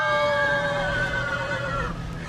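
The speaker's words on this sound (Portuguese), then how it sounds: "Aquele velho tinha os olhos vermelhos e descia a ladeira relinchando." A single long horse whinny used as a sound effect, a loud, wavering neigh that holds for about two seconds before trailing off, with a faint rumble beneath and no voices.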